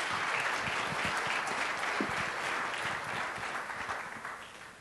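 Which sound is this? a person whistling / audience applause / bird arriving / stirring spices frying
audience applause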